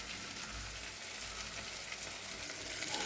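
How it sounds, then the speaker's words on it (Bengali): Batter-coated pointed gourd fritters stuffed with filling fry in hot oil. The sizzle is steady, crackling and close, and no one speaks. "একটু ভালো করে আমি আর একটু ভেজে নেব।"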